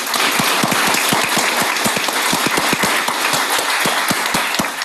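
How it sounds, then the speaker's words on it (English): An audience at a guide dog graduation in Yorktown Heights, New York gives a loud, sustained round of applause, dense overlapping claps filling the room evenly throughout. "please join me in one last round of applause for our celebrants"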